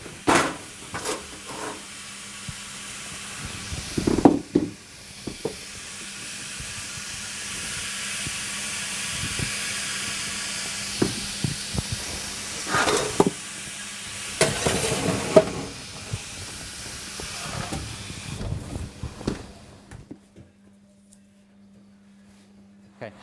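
Steam hissing from a hot tray in an oven while a sourdough loaf bakes, a broad rushing hiss with bursts and clatter of the tray, a low hum beneath, fading out near the end.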